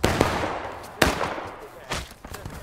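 Musket shots ring out in the American Civil War game War of Rights: a few sharp, distinct reports roughly a second apart, the loudest near, others fainter and more distant, with brief rumbling tails.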